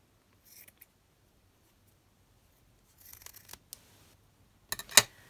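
Scissors make a few soft, scattered snips trimming lace, close by and quiet, with short clusters of cuts separated by pauses.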